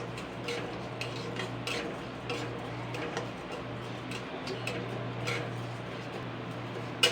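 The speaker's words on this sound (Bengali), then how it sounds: "এবার আমি একটুখানি মুগ ডালটাকে হালকা লাল লাল করে ভেজে নেবো" Moong dal is dry-fried in a pan and stirred, giving faint repeated scraping ticks of a spatula against the pan over a low steady hum, close and quiet throughout.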